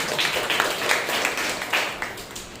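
A congregation at a Sunday church service claps for a weekly birthday, a soft, fairly distant patter of hands that swells in uneven bursts for a couple of seconds.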